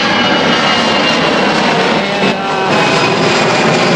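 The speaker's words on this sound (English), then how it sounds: "next thing you'll see is this thing making a pull" A 2009 Corvette C6 ZR1 roars through a full-throttle dyno pull, a loud, continuous engine blast that holds steady for four seconds with no voices over it.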